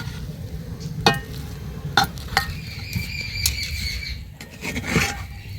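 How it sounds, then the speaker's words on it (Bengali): Food is stirred and mixed in a pot with carrots, giving scraping spoon strokes and sharp clinks against the pot at irregular intervals over a soft sizzle, close and fairly quiet. "খুব ভালোভাবে মিশিয়ে নিচ্ছে"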